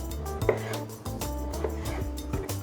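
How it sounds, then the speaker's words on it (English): A knife cuts potatoes into wedges on a board, giving a few distinct chopping knocks spaced across a few seconds against a steady background hum. "I'm gonna cut these in half, and then I'm gonna do these little diagonal slices like so"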